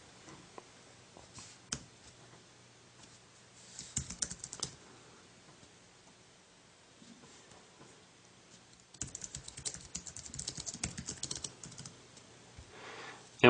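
Typing on an Apple iPad keyboard dock with an iPhone 3GS seated in it, sparse scattered key clicks early, then a quicker burst of close, crisp keystrokes, fairly quiet with no talk.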